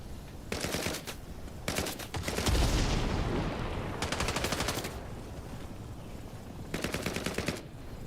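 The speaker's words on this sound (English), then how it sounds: "I think it's a submachine gun. It's like called like a KM-50 or something." KM-50 submachine gun firing in the Vietnam-era shooter Hell Let Loose Vietnam, several rapid automatic bursts of a second or so each separated by pauses, with a booming explosion rumbling in the middle.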